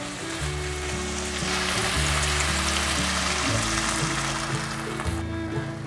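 Filtered water poured into a wok of sizzling seasoning with sugar, rose salt and pepper gives a loud, steady frying hiss throughout, bubbling busily close by with music underneath.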